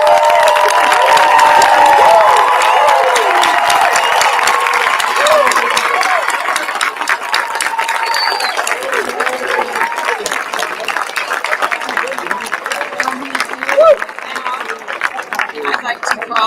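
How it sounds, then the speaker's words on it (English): Sustained applause from an audience standing for newly pinned nurses at a nurse pinning ceremony, dense steady clapping that thins slightly toward the end, with voices and cheering mixed in. "Will everyone stand and applaud our newly pinned nurses?"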